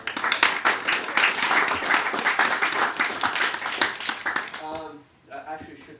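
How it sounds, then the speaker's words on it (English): Audience applause for Billy and Samantha at a party, dense clapping filling most of the clip before breaking off and giving way to a voice near the end. "Let's give Billy and Samantha a big round of applause for that."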